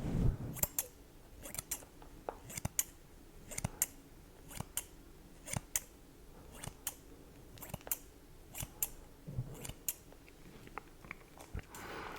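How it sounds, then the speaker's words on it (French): Scissors snip hair close up in quick, irregular bursts of sharp little cuts, with short pauses between them against a quiet background. "Je vais te mettre un petit peu des coups de ciseaux au hasard"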